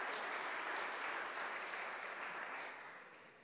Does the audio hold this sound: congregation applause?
yes